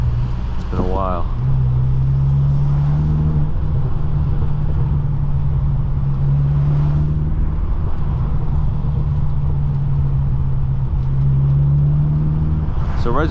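A tuned BMW M6 engine hums at a steady low drone while driving, with smooth rising revs between shifts and a person talking over it.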